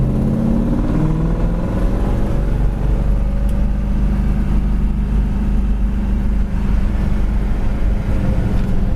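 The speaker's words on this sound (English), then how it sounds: "Car really runs and drives nice down the road" A 1967 Ford Mustang Fastback with a small-block, two-barrel engine drives down the road, its steady low rumble and droning road noise heard continuously from inside.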